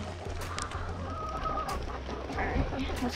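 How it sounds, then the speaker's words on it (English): Chickens on a farm cluck and murmur nearby in an irregular chatter, over a low steady background hum. "These chickens are crazy."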